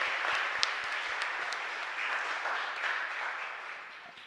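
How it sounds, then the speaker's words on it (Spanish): A church congregation applauds a parishioner's birthday, a dense, continuous round of clapping from a crowd, moderately loud with a few crisp individual claps poking through. "Así que con un fuerte aplauso para ahí, le decimos muchas felicidades."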